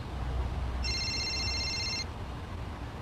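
A phone rings inside a car stopped at the roadside, one continuous electronic warble lasting about a second over the low, steady rumble of the vehicle.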